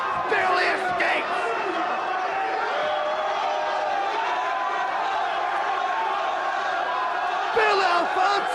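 A capacity pro wrestling crowd in Fort Lauderdale, Florida roars and cheers continuously at steady loudness, with a few louder whoops and shouts rising out of the din near the start and end.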